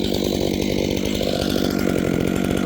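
Chainsaw mill cutting larch timber into boards, the engine running loud and continuous at a steady high pitch as the chain rips through the log, with no pauses and no talking.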